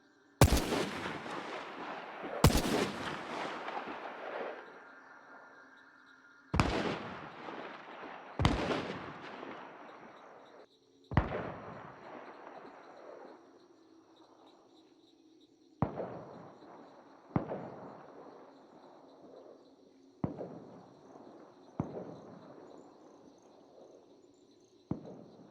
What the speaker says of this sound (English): selecting a weapon, viewing it in 3D, and scrolling out to fire it at different distances